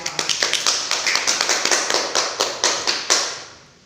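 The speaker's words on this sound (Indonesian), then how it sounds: "Tepuk tangan untuk kita semua." Classroom applause during a science micro-teaching lesson: a small group claps in a brisk, steady rhythm of sharp, close hand claps for about three seconds before fading out.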